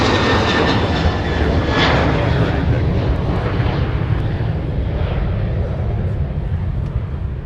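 A Doomsday plane landing on runway 30 left at Minneapolis–St. Paul airport gives a steady, loud aircraft engine roar that fills the whole stretch, with radio voices faintly underneath.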